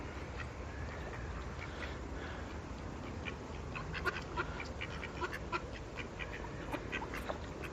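Small group of ducks at a carp fishing lake giving scattered, faint quacks and clicks that grow busier toward the end, set against a constant breezy outdoor background.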